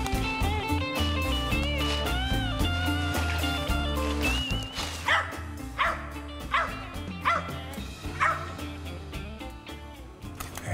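During a squirrel hunt in the woods, a hunting dog yips and barks in sharp repeated bursts, some high and whining, layered over background music and a low rumble.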